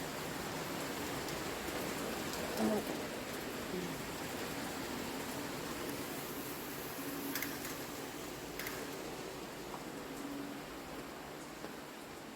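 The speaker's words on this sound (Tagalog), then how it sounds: "Oh, grabe ang ulan." Heavy rain falls steadily in a Philippine city, a dense even hiss of downpour with faint ticks of drops, continuous and unbroken with no voices.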